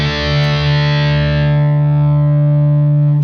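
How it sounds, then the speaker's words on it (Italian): Electric guitar played through a single distortion pedal, holding one heavily distorted chord that rings loud and steady for about three seconds, slowly losing its upper edge, with no other sounds. "In questo caso è fatto con un unico pedale di distorsione."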